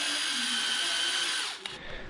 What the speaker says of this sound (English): I'm loosening up the front bumper to make it easier on myself when I drill some holes to mount these things.